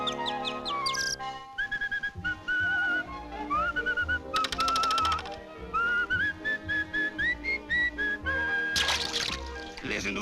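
A cartoon cat whistles in a 1947 animated short, giving warbling, birdlike melodic phrases over orchestral music. Quick chirps and runs shift in pitch throughout, with short pauses between phrases.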